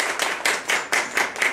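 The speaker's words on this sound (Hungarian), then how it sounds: "Még egyszer egy taps Ildikóra" A small audience claps for a winner named Ildikó: a few short bursts of clapping come in uneven waves, fairly close and moderately loud, with brief dips between them.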